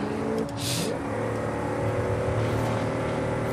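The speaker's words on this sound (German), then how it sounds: "Aber dafür haben wir ja die Power eines V8 unter der Haube." A Plymouth Belvedere limousine's V8 engine drones steadily in a driving video game, a continuous mid-level engine tone with slight pitch shifts as it revs, heard alone without talk.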